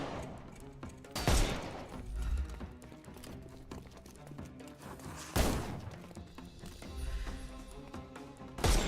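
Gunfire erupts in Sherlock Holmes Chapter One, two sharp loud shots spaced apart, followed by rumbling thuds and clattering over a steady game music bed.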